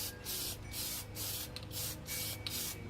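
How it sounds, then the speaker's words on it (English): Aerosol Plasti Dip sprayed onto a car emblem from several inches away, heard as five or six evenly spaced, loud hissing bursts with short pauses between them and no talking. "You need to stand back and spray 6 to 10 inches from your emblem."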